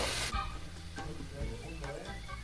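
Tomato and chile sauce sizzles and spits steadily in a hot pan while a spoon stirs it, close and loud and continuous.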